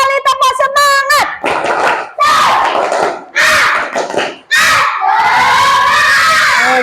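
A class of schoolchildren in Indonesia does a loud spirit clap cheer, with a rapid burst of close claps followed by chanted shouts, more claps and sustained cheering.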